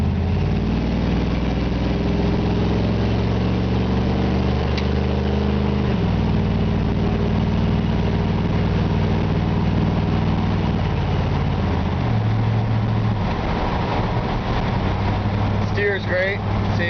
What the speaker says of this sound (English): Transmission shifts out great.